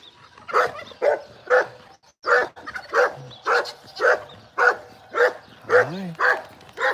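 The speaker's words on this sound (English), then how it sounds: "That's a beautiful dog. That is a Great Pyrenees." A Great Pyrenees barks outdoors in a steady series of about a dozen loud, close woofs, evenly spaced with short gaps, and a brief whine near the end.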